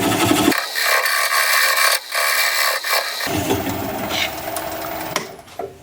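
A wood lathe turns a sycamore bowl at about 400 RPM, giving a steady, close whirring drone with rough scraping from the cut that shifts in tone partway through. No one speaks.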